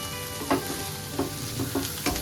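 Broccoli and corn sauté for a minute in half a teaspoon of butter for a crisp salad. The frying crackle is close, with several quick spatula scrapes and knocks against the pan over it. No voices.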